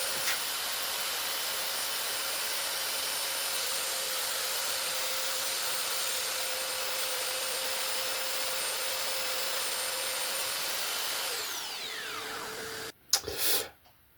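A loud, steady vacuum motor whine from a vacuum cleaner connected to a Parkside PBSD 900 A2 sander runs continuously, then winds down and cuts off, followed by a brief clatter near the end.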